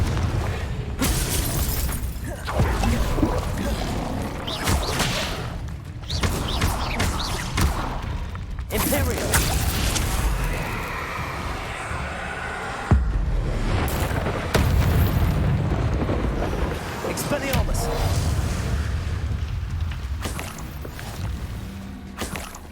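Confringo blasting-spell explosions in the video game Hogwarts Legacy, repeated booming bursts and crackling debris over a dense, continuous battle din.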